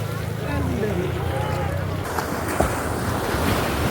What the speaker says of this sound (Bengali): শুনতে পাচ্ছেন কি ঢেউয়ের শব্দটা?